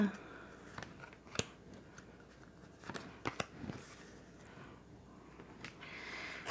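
Three tarot cards are drawn from a deck, heard as several sharp, quiet snaps and flicks of card stock spaced across the stretch over a soft background hiss.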